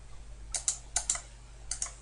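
Quiet clicking of computer keyboard keys, six light keystrokes in three pairs, close and distinct over faint background hum.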